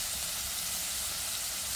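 Onions and garlic fry in hot oil for a traditional karunai kizhangu curry, giving a close, steady hissing sizzle that stays even and continuous with no voices.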